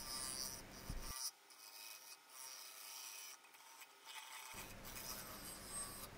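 Fine shavings peel off a wooden bowl being finish-shaped on a woodturning lathe, a soft steady scraping rasp near the mic that drops to a muffled hush mid-way before returning.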